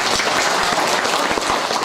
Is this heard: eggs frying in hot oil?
no